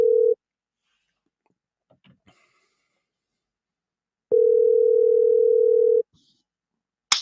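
Telephone dial tone on a Rodecaster phone call: a short steady tone cuts off, a few faint dialing clicks follow, then a longer steady tone lasts nearly two seconds before a brief high blip, with no talking.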